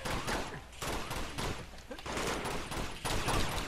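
Gunfire in Uncharted 2 crackles in rapid, repeated bursts of shots through a firefight, fairly faint and fairly steady, with a player speaking at times.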